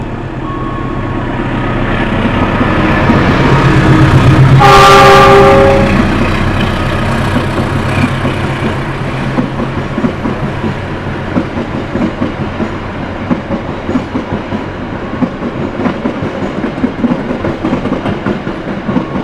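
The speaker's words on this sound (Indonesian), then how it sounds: "Kereta api Senja Utama Solo bakal berjalan langsung di jalur 2 stasiun Linggapura" Senja Utama Solo passenger train running straight through Linggapura station on track 2, heard from a train halted alongside: a loud rushing swell with a horn-like tonal blast near its peak, then steady rolling rumble and clickety-clack of wheels on rails.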